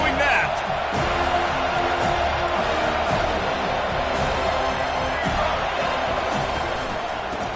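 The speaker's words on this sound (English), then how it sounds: "They challenge this crowd to bring the energy, and I'd say they're doing that" A loud, steady stadium crowd roars and cheers throughout a Miami vs FSU college football video game matchup, a dense wash of noise with a commentator talking over it.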